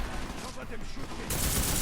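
Rapid gunfire bursts from the video game Deus Ex: Mankind Divided, a dense continuous clatter that swells louder in the final half second, with shouted voices mixed in over the shooting.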